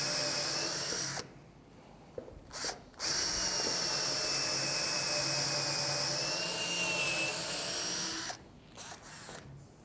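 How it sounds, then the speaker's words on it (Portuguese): A power drill with a high-speed steel bit bores into wood while a bookshelf is built, its loud whine running in long stretches broken by brief pauses. "quem estiver se perguntando por que ele estava usando uma broca de aço rápido e não usou direto a de madeira"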